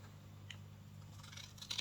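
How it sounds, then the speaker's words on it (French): Scissors snip through paper along a traced line during a craft album tutorial, a few faint crisp cuts and clicks over a steady low hum, close and quiet. "On va prendre les ciseaux."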